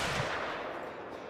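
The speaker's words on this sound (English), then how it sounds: "Oh, that shot felt good." A single shot from a 45-70 single-shot pistol in the hunting game Call of the Wild, one loud, close, broadband blast that trails off into a fading echo over about a second.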